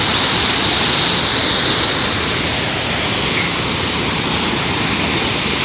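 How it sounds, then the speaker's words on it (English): A waterfall and a river in Mexico roar with loud, continuous broadband rushing water, close and unbroken, with no voices. "But there is a lot of water running through."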